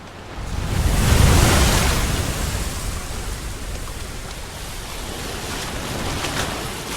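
Ocean waves crash against rocky cliffs in a broad roar of surf that swells loudly early on, then settles into a steady, wind-blown wash of water with no voices.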